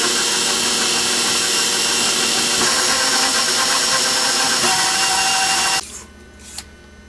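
A handheld electric mixer runs loud and steady while creaming the ingredients for thick, fudgy double chocolate cookie dough. It whirs continuously for about six seconds, then cuts off and leaves a quiet room with a brief clink.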